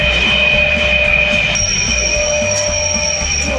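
A train pulling away from a station, a loud steady rumble of wagons with high, sustained wheel squeal and hiss that holds for several seconds without speech.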